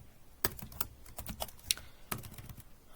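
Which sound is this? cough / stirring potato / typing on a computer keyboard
typing on a computer keyboard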